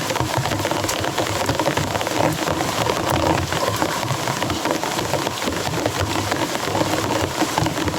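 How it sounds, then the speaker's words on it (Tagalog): Heavy rain pours steadily, a dense hiss of drops drumming on surfaces, loud and constant throughout. "Sobrang lakas ng ulan ba?"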